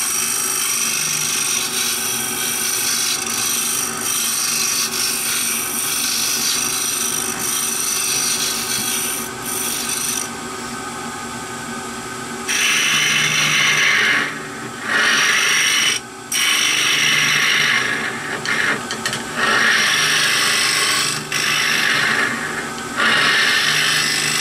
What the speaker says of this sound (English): I just sanded it enough to take any rough edge off